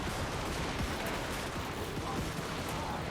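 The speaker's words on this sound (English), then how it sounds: "We're trying to hit them with some nice rank and file fire." Massed rank-and-file musket gunfire from a Total War Warhammer 3 battle crackles amid a dense, roaring wash of combat noise, with scattered shots poking out of the steady din.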